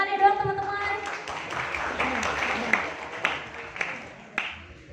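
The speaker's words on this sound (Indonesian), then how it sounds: "Boleh tepuk tangannya dong teman-teman." Audience applause at an inspirational talk event in Bumiaji, Batu, a dense wash of clapping that carries steadily through the whole span, with a few sharper individual claps standing out near the end as it tapers off.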